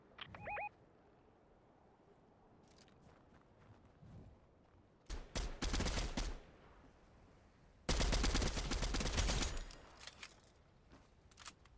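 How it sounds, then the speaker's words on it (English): Bursts of MK7 assault rifle fire in Fortnite, two sustained rapid volleys after scattered single shots and faint ambient game sounds, loud and close. "This is the new weapon that you can ADS, the MK7"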